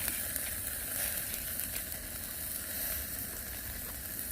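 Pork belly sizzling over a charcoal grill at a campsite beside a camper van, a steady close crackling hiss with faint pops, continuous and even throughout.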